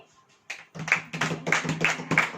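A church congregation clapping hands during a sermon: after a quiet start, sharp claps settle into an even, fairly quick rhythm, loud and close.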